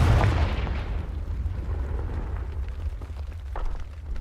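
A Confringo spell explosion in the Hogwarts Legacy video game gives a heavy, booming blast at the start. A low rumble then fades slowly over several seconds.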